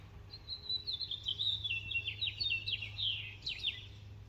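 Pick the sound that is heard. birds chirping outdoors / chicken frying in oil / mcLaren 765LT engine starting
birds chirping outdoors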